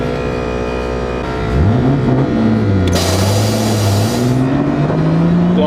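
A Lexus GS300 with a blow-off valve revs hard nearby, the engine climbing and sliding in pitch as a sharp hissing whoosh of released air bursts out partway through.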